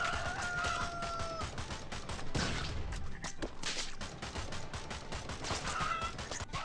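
A chicken in the video game Swamp Attack 2, clucking and crowing amid busy game noise and popping shots, fairly faint.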